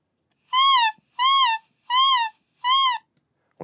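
An oboe imitates a seagull call with four evenly spaced, bright, wailing cries, each rising then falling, played close and loud with short silences between them.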